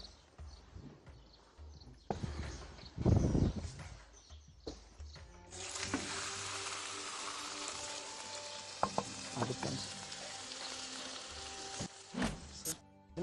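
Meatballs fry in a pan with butter before going into the oven, a steady sizzle setting in partway through, with stirring, scraping and clinking utensils around it and no talk.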